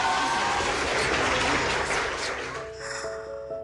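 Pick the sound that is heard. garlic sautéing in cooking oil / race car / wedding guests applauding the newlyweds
wedding guests applauding the newlyweds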